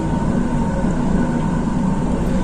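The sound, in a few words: metro train running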